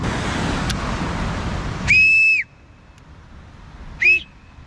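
Two loud, piercing whistle blasts, the first longer, the second short, over faint background rumble; no talking.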